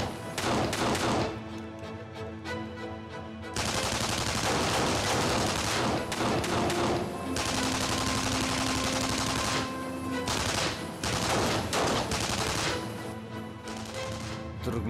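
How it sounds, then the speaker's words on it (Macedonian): Sustained gunfire crackles in dense, rapid bursts of automatic shots, with short gaps in between. It sounds loud and close throughout, with no talk over it. "Се спремаат да пукаат."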